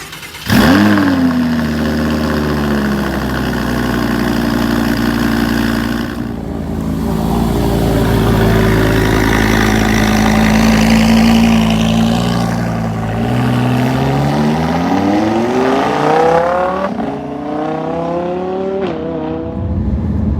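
The 5.2 liter engine of a 2019 Lamborghini Huracan RWD coupe revs and idles loudly up close, pitch rising and falling through long sweeps, with no talking.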